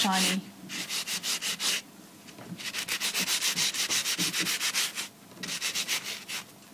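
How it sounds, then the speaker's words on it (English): Rhythmic back-and-forth sanding strokes on small metal flower embellishments, a bright raspy scrape repeated in quick bursts with short pauses between. "just sand the tops of the flowers so that it really stands out a little bit more"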